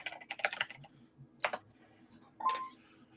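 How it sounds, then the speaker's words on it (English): Keys of a computer keyboard clack in a few short bursts, with gaps of near-silence between them. The typing is close, quiet and unhurried, and there is no talk over it. "give me a hard time again about the noise on my keyboard"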